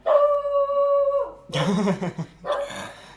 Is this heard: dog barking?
yes